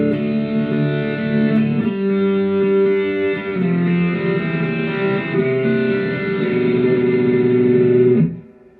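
Strymon Deco tape saturation and doubletracker pedal on a sustained guitar chord, producing a slow, gradual flanger-like sweep with chorus and echo; the chord changes a couple of times, is loud and steady, then cuts off near the end.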